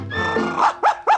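Dog named Little Nipper barking, a few short close barks in quick succession, loud and clear with no talk over them.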